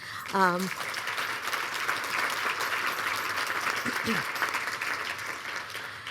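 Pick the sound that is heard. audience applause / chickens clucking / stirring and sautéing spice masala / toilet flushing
audience applause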